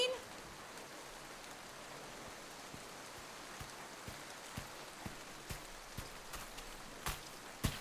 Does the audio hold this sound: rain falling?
yes